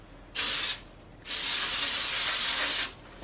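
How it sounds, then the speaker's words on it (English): An aerosol baking spray containing flour coats an aluminum cake pan with two loud hissing bursts, a short one followed by a longer, steady spray. "And it literally sprays flour."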